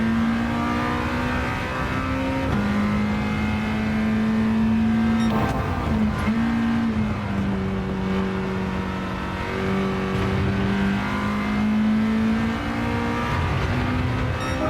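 Honda Integra race car engine in Gran Turismo 7, a steady loud drone that rises and falls in pitch through gear changes and corners, running continuously with no talk.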